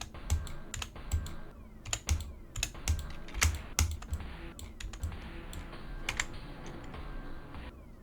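Rapid keyboard key clicks while playing a game level, irregular bursts of taps with dull low thumps underneath, close and steady, with no talking.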